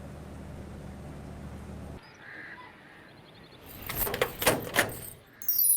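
A door is opened in a house, with a couple of soft clunks and a sliding rattle near the end after a quiet stretch.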